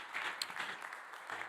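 Applause from a church congregation after a sermon, a steady wash of many hands clapping at moderate distance, fairly soft and continuous with no talk over it.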